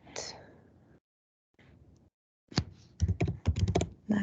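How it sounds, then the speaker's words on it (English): Computer keyboard typing during an AWS setup session. A few soft keystrokes come first, then a quick run of close, clicky taps with brief gaps between them. No speech is present. "So here I am typing NAT."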